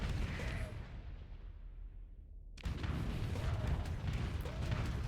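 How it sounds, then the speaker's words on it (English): Missile impacts striking a ship's starboard side in the space combat game Starsector: a heavy rumbling boom that fades, then a second loud, noisy blast rolling on to the end. "I'm taking a few missile shots to the starboard there"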